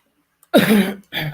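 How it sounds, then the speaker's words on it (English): After a moment of silence, a single close, hoarse cough bursts out, followed by a shorter second one. "cough is driving me nuts"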